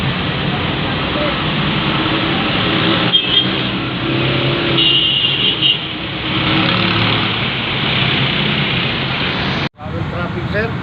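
Continuous roadway traffic noise in Zamboanga City during a heavy jam, a steady broadband rumble of cars and engines that stays loud throughout, with a brief dropout near the end.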